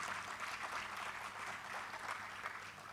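A crowd claps steadily and evenly throughout, a dense wash of applause from a large audience at moderate distance, at a Janjatiya Gaurav Diwas event marking Birsa Munda's birth anniversary.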